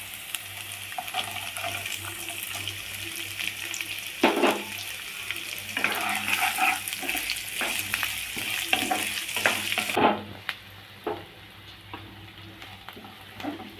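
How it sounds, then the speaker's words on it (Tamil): Continuous sizzling hiss of chopped onions sautéing in a pan, with occasional scraping stirs and bumps; the hiss drops off abruptly near the end. "இங்கே பாருங்கள், வெங்காயம் கொஞ்சம் வதங்கிடுச்சு."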